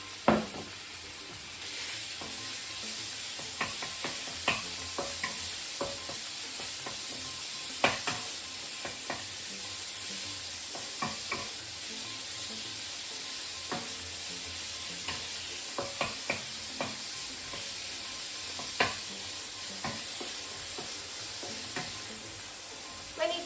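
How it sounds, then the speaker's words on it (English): Chicken sizzles in hot vegetable oil in a wok, a steady frying hiss broken by repeated clacks and scrapes of stirring. "Heat up some vegetable oil in the wok or frying pan and let's cook the chicken and onion."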